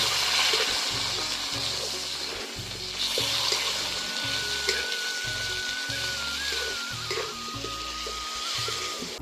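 Tomatoes drop into frying ginger-garlic paste for chana masala, giving a steady loud sizzle with faint stirring and a low hum underneath.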